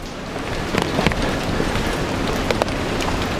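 Steady rain patters on a surface in Keelung, Taiwan, a constant hiss with scattered louder drops, no voices.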